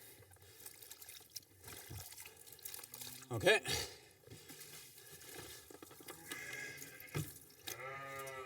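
Water sloshes and trickles in a sink or tub as a newborn lamb is dunked and washed in warm salty water, with splashes, drips and a brief spoken word under the running-water noise.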